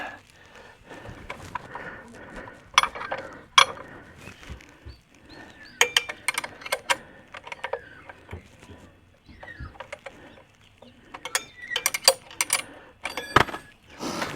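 A 17 mm ring spanner snugs up the bolts on new GIVI crash bars fitted to a Honda CB125F motorcycle, giving a run of irregular metallic clicks, taps and ratcheting knocks at close range, with no talk.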